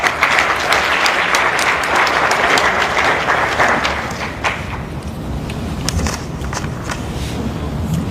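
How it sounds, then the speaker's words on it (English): Sustained applause from a crowd at a formal ceremony, steady and full for several seconds before easing slightly, with scattered louder claps toward the end. "So give her a round of applause."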